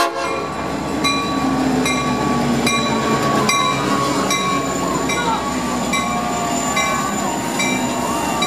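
Train horn blaring at a St. Patrick's Day parade in Tinley Park, a steady loud chord held throughout with rail noise and crowd sounds beneath.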